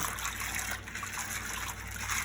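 Liquid poured into a container of food to soak it during home cooking, a steady trickling, gushing stream that runs continuously at close range with no talking.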